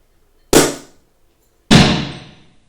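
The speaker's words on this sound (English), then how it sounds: "last time we did this, the cork flew all the way across the room" Two sharp, loud pops about a second apart, each with a quickly fading ring, as corks burst from bottles of bubbly pink Moscato champagne; no voices.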